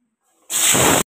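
Potatoes dropped into smoking-hot oil in a wok for aloo paneer burst into a sudden loud hiss that erupts and holds steady for about half a second before cutting off.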